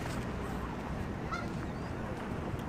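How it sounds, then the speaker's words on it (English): Geese honk intermittently in the distance over a steady outdoor background murmur. "There's a lot of geese."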